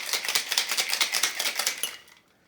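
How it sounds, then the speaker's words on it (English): Ice rattles hard inside a cocktail shaker as a dry martini is mixed, a rapid run of sharp rhythmic clacks shaken vigorously for about two seconds, then stopping abruptly into quiet. "I shake it very vigorously to coat the ice in the sides"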